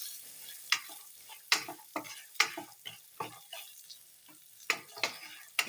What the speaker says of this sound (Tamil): நிலக்கடலை நல்லா ஒரு மாதிரி கிறிஸ்பாக நல்லா வறுக்கணும்